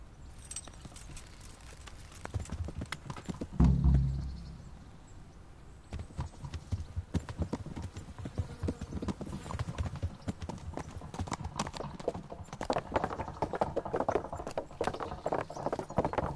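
Horse hooves clip-clop steadily along a road in the medieval role-playing game Kingdom Come: Deliverance, a continuous rhythmic trot at moderate distance with a brief louder thump early on and game ambience beneath.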